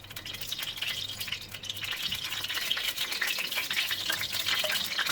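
Half a cup of cooking oil in a karahi pan for chicken butt karahi hisses and crackles steadily, a continuous bright sizzle with faint stirring scrapes, moderately loud and close, no talking.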